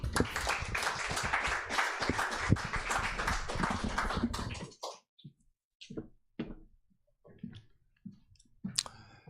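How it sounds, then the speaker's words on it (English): An audience at a book launch applauds a poet with dense, close clapping for a few seconds, then the clapping breaks up into scattered, sparse claps and thins out toward the end. "Round of applause for the man himself, James Cushing."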